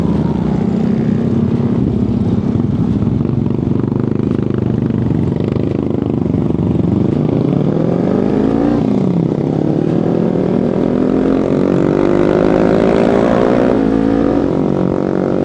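Kawasaki Ninja 300 motorcycle engine revving while riding, loud and close, with steady droning and rising and falling pitch sweeps as it accelerates and shifts, and no talk.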